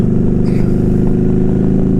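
Motorcycle engines revving loudly and close by, a dense, throbbing low rumble with steady pulsing firing beats and a brief rising rev near the start, no speech.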